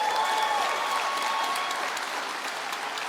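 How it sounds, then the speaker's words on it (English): Audience at a UC Davis School of Medicine induction ceremony applauding, a dense, steady round of clapping from a large crowd in a hall, fading slightly toward the end. "Give some round of applause"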